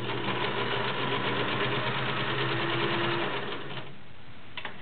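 A Kenmore model 1730 all-metal sewing machine runs in a fast, steady mechanical whir with a rapid needle rhythm, close and continuous before slowing and stopping near the end.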